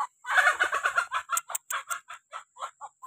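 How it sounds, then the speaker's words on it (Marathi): A young rooster at a rural Konkan home gives a rapid run of clucks and gobbling calls. They start dense, then break into evenly spaced notes that fade toward the end. The bird is close and clear, with no talking. "हा एक नवीन कोंबडा आहे."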